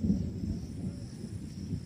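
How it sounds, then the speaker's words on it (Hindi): Distant thunder rumbles from storm clouds over a garden in guava season, a low continuous roll with a steady wash of wind-like noise and no talking. "आपको शायद बादल की आवाज़ आ रही है, गरज चमक रहे हैं बादल भी"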